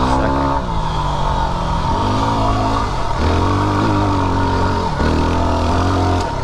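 A Yamaha WR250R motorcycle engine pulling in second gear, a loud continuous close-up drone whose pitch climbs in repeated steps as it accelerates, with no talking over it.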